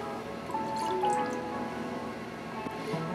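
Lemon juice, a 3/4-ounce measure, poured for a shaken sour-style cocktail: a thin, steady trickling stream of liquid into a jigger or tin, close and fairly quiet, with no talking.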